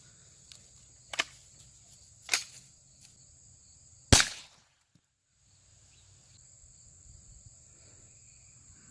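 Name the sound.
CCI .22 LR shotshell fired at apples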